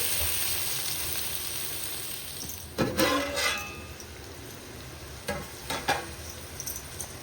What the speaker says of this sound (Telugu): గ్యాస్ మీడియం ఫ్లేమ్లో ఉంచుకొని ఈ టమాటాలు బాగా మగ్గే వరకు బాగా వేయించుకోవాలి.